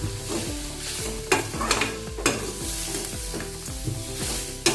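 Coriander chutney ingredients and coconut sizzle in a pan, with a steady hiss broken by repeated sharp scrapes and clacks of stirring, close up, no talking.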